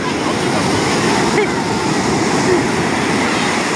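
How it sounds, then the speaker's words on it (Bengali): High-tide waves break on Puri beach in a constant, loud rushing roar of surf that fills the whole stretch, with swells washing in close by. "আর আজকে বেশি হাত পা ছড়ে যাচ্ছে, ঢেউটা আসছে দেখো।"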